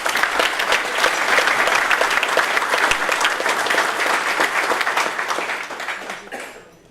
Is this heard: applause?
yes